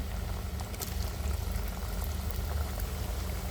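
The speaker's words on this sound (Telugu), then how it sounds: "కొద్దిగా ఆయిల్లో వేసుకుంటూ మంచి కలర్ వచ్చి బాగా ఫ్రై అయ్యేంత వరకు ఫ్రై చేసుకోవాలి." Small discs of semolina snack dough deep-frying in hot oil make a dense, steady bubbling crackle. It is close and even for the whole clip, with no talking.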